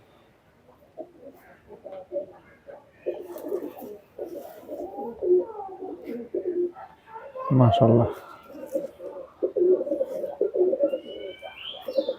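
Chinese teddy pigeons coo repeatedly in low bubbling calls from nearby, mixed in with steady male speech through most of the stretch.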